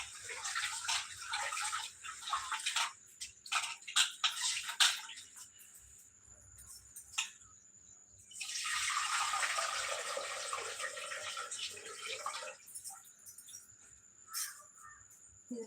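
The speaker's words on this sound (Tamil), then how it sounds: "அதுக்குள்ளே அரிசியை கழுவி வச்சுட்டு" Tap water runs while rice is being washed in a home kitchen, a steady hissing flow in bursts with a longer continuous stretch near the middle, close and moderately loud, with no talking.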